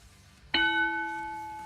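A wrestling ring bell from the video game Superstar Pro Wrestling strikes once, loud and clear, its bright metallic tone ringing on and slowly fading over quiet background.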